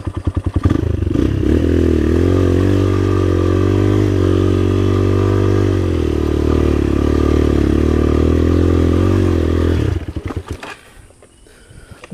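A motorcycle being recovered on a slippery trail at Arca, its engine straining loudly and steadily at close range for about ten seconds before cutting off into quieter clatter.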